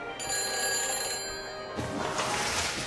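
A telephone rings through a phone-helmet device in the Back to the Future video game after a number is dialed, with steady repeated electronic ring tones that are loud and clear and no talking.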